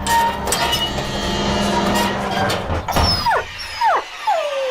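A dog at the large gate of a big house gives a few short, falling whimpering yelps near the end, after a busy, loud background of mixed sound.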